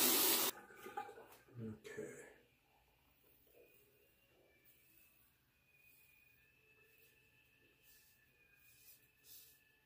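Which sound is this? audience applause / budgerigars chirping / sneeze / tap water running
tap water running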